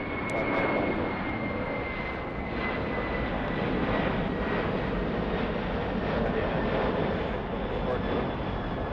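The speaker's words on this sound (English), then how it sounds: "Our Lufthansa 456 is starting to descend." A Lufthansa airliner descending near Los Angeles airport gives off a steady, broadband jet roar that holds at an even loudness throughout, with a faint high whine running across it.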